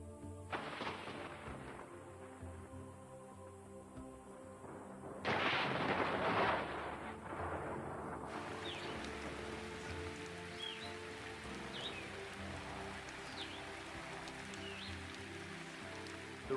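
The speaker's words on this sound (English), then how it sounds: "the big thunderstorms, bringing the season's first heavy downpours," Heavy rain pours steadily in an African jungle thunderstorm while deep rumbles of thunder roll through, one loud crack standing out; distant bird calls come faintly over the downpour.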